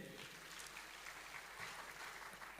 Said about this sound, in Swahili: Mupigie makofi tena.